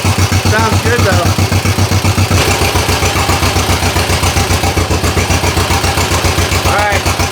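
A tracked machine's engine runs steadily right after its first start, a loud, close, rhythmic chugging idle that keeps an even pulse throughout.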